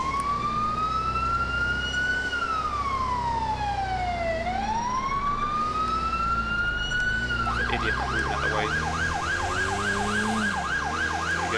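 Police car siren in GTA IV with the LCPDFR mod, set to British Metropolitan Police sirens: a loud, steady wail rising and falling slowly, then switching to a fast yelping warble over engine noise.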